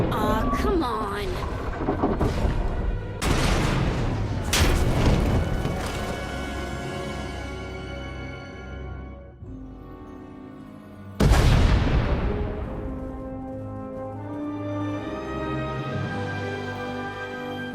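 Explosions in the video game Star Wars: The Old Republic, two or three heavy booming blasts with long rumbling decay, loud and close, the last one striking suddenly after a quieter lull.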